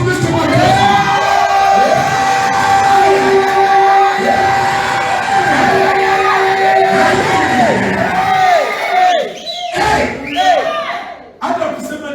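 A church congregation at Restoration Evangelistic Ministries in Bukembe cheers loudly for Jesus Christ, with sustained ululating shouts and crowd noise rising and falling together, then breaking into scattered bursts near the end.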